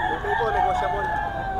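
A rooster crows loudly and steadily at a busy chicken market, with clucking fowl and chatter from nearby people mixed in.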